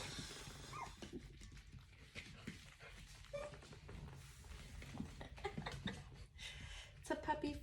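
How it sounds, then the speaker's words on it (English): Several young puppies whimper and yap in short, scattered high cries mixed with snuffling and movement close by, with faint human voices around them. "It's a puppy frenzy."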